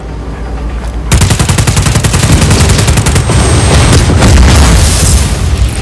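Rapid automatic gunfire shooting a generator in the video game Just Cause 4, a loud continuous string of evenly spaced shots that starts abruptly after a low droning hum and keeps going to the end.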